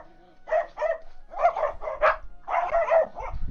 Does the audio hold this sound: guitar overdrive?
no